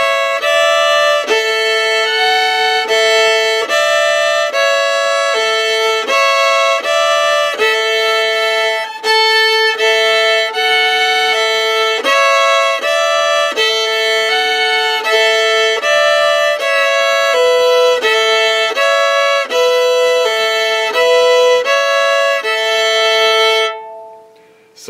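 Fiddle playing the A part of the tune Fire on the Mountain with a shuffle bowing pattern, loud and close, bright sustained notes in a steady driving rhythm for about 24 seconds, then a sudden stop.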